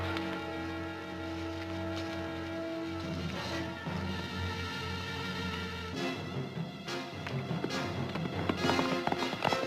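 Horses' hooves clip-clop at night in a classic western TV drama, the dull, quick hoofbeats partly buried under a loud, sweeping orchestral score that swells toward the end.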